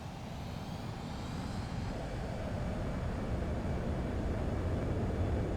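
A fighter jet in the Ace Combat 7 video game roars on takeoff, a dense, steady engine rumble that slowly builds in loudness with no talking.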